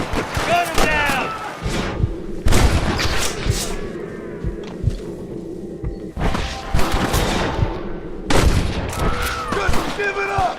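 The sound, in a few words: gunfire in the video game Red Dead Redemption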